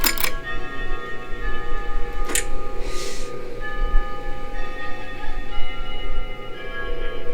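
A bell chimes in the horror video game Five Nights Before Freddy's, ringing out with sustained, slowly decaying harmonic tones over a low ambient hum, joined by a few sharp clicks.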